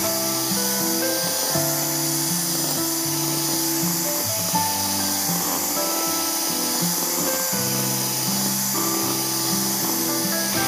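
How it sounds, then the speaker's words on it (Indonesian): An electric mixer whips red velvet cake batter at high speed, a steady loud whirring drone with shifting tones, alone without talk. "Lalu kita aduk rata kembali dengan kecepatan tinggi hingga mengembang dan kaku sampai soft peak ya."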